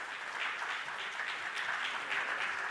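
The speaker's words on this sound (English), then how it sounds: "So incredible round of applause" Audience applause for committee members at a university supply chain symposium, a steady wash of clapping from a crowd that holds at an even level throughout without any speech over it.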